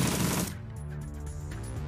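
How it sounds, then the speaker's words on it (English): Gunfire in the Shadowrun Dragonfall video game, a dense burst in the first half second that settles into a lower, steady rumble of combat sound. "In the meantime, we'll just open fire."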